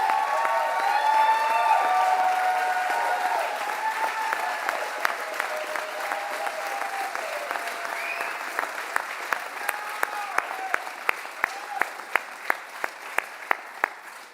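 Loud audience applause at a UAW union rally for a Daimler Truck contract, a dense sustained roar of clapping with some crowd noise that thins into a few distinct, spaced claps near the end.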